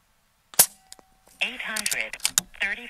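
An AirMaks Katran Long .25 caliber regulated air rifle fires one sharp, loud shot, followed by someone talking after a short pause.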